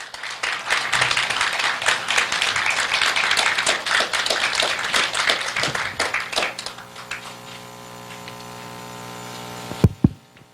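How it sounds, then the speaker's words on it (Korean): An audience applauds a distinguished elder being welcomed to the stage at a civic group's launch ceremony, steady clapping for about seven seconds that fades out, followed by a quieter hum and a couple of close taps or knocks at the end. "나오실 때 큰 박수로 함께해 주십시오."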